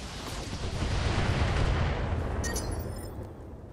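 Mech weapons fire at a target in the BattleTech video game, making a loud, continuous rumbling barrage of blasts that swells and then fades with a few metallic clicks at the end.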